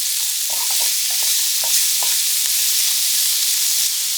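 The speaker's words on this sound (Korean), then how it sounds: "양파가 반 정도 익으면 애호박 넣고 골고루 한번 볶아주고" Zucchini and onion stir-fried in a pan give a steady sizzle and hiss, with several soft scraping stirs of a utensil along the pan bottom, close up and without talk.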